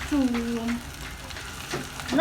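Onions fry in a pan for meatballs with a steady, close sizzle, while a voice briefly talks over it.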